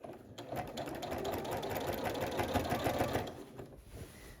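A sewing machine quilting through heavy, bulky quilt layers runs with a steady, continuous mechanical whir and rapid stitching rhythm, close and alone for the whole stretch.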